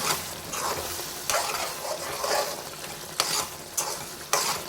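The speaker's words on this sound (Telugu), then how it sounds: "ఇలా అంటుకుంటుందన్నమాట అందుకే మధ్యలో మధ్యలో తిప్పుకుంటూ కలుపుకుంటూ ఉండాలన్నమాట" A spoon stirs tomato curry in a pan, with scraping strokes repeating every second or so over a continuous sizzle of frying, close and fairly loud.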